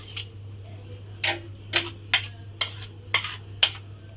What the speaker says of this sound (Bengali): এইভাবে সর্ষের তেলটাও খুব ভালোভাবে মেখে নিলাম।